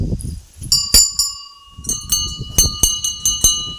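Small temple bell rung by hand several times in quick, uneven strikes, each a bright ringing tone that lingers briefly, close and clear over soft background rustle.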